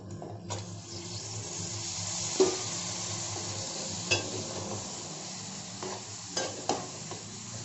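Washed chicken pieces dropped into hot oil in a pan for a spicy chicken fry, sizzling steadily with a few scraping stirs and clinks of a spoon against the pan, close and moderately loud, no talking.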